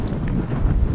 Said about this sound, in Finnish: Täällä on vaan pelkkää tuulta ja vesisajetta.